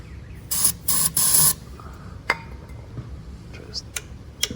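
Short bursts of aerosol cleaner sprayed into the carburetor of a Ryobi pressure washer that won't start, three loud hissing blasts up close followed by faint clicks and small handling taps.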